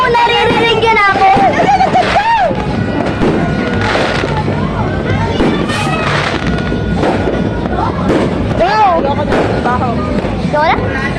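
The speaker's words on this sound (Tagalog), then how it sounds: "Dami fireworks!" New Year's Eve fireworks pop and crackle nonstop, loud and near, with whistling rockets, wind buffeting and excited voices talking over them.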